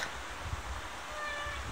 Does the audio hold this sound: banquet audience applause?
no